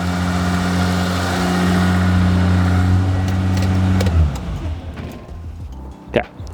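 A project car engine idles high after warm-up, a steady elevated drone close by that drops away partway through, leaving quieter background noise and a brief sharp knock near the end.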